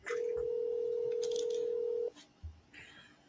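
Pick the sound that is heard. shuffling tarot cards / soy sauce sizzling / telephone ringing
telephone ringing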